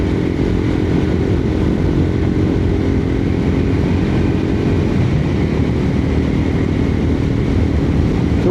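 X-PRO Roadster 250 motorcycle cruising at 65 mph around 6,000 RPM, a steady loud engine drone mixed with dense wind rush, unchanging throughout without any talk.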